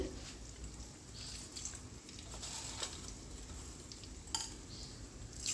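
Mustard seeds crackling in hot oil in a pan while a curry is being started, a faint, steady sizzle with occasional pops and a light clink of a utensil, and no voices.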